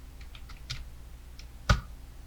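Computer keyboard keys tap out After Effects shortcuts: a few light, quick clicks near the start, then a single sharper, louder keystroke toward the end, close and otherwise quiet.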